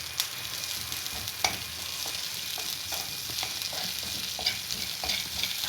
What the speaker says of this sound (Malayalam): അത് നന്നായിട്ട് നമ്മളൊന്ന് ഇളക്കി കൊടുക്കാം.